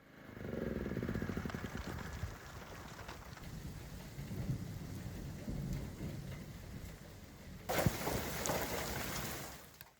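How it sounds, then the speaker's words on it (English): Heavy rain pours steadily outdoors beside a freshly repointed wall, a dense continuous hiss with no voices, briefly swelling louder near the end. "so the rain got heavier."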